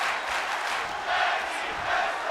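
Arena crowd in a wrestling video game during a women's tag team match: a steady roar that swells into rhythmic chanting in repeated waves, with no talk over it.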